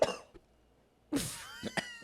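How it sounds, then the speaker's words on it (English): A person coughs sharply a couple of times in a podcast-style room, close to the microphone, with a short hacking burst at the start and another louder cluster after a quiet pause. "I just cough at you."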